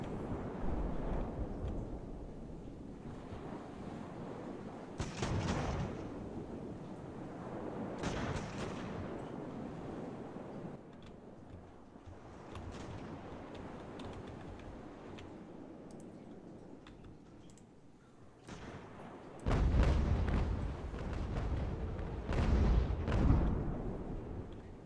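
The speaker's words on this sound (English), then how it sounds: "Let's go ahead and throw some canister fire across their stern" Ship cannons firing canister shot in a naval battle in Ultimate Admiral: Age of Sail, a string of distant booming volleys and rumbling reports, the loudest cluster coming near the end.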